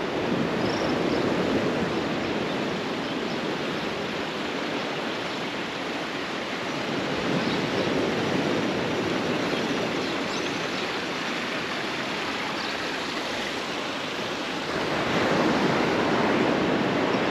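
Ocean waves roll onto Praia Canto do Poá beach in Penha, Santa Catarina, producing a steady broad hiss of surf with gentle swells in intensity and some wind, and no one talking.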